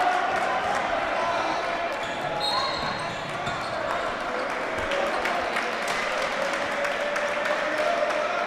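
A rowdy LD Bell high school student section fills a gym at a boys' basketball game against Lewisville, a steady wash of crowd noise and shouting running under a commentator's voice throughout.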